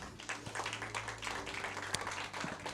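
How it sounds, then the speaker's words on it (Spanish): A church congregation claps together in dense, steady applause lasting a few seconds, fairly faint, with low sustained tones humming underneath. "¿Cuántos pueden dar un aplauso al Señor por eso?"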